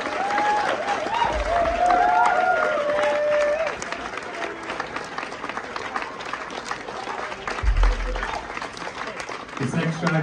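Concert crowd at a live show at The Wall in Taipei applauds the performers: dense, steady clapping with a few whistles and cheers. It swells early, thins out, then a voice speaks over the tail.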